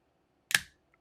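A plastic tray's small holding bar snaps into place with one quick, close click, a faint tick following a moment later in an otherwise quiet room.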